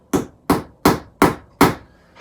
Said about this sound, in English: And then you want to get your hammer.